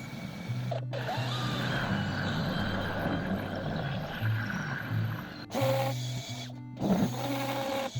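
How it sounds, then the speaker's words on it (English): A power drill bores into a wall in a bathroom renovation, running in steady sustained bursts with a strong whining hum and brief pauses, close and loud with no talking. "So time to start drilling."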